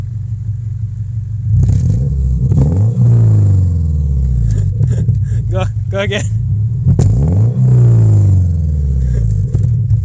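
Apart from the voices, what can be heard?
Subaru engine revving hard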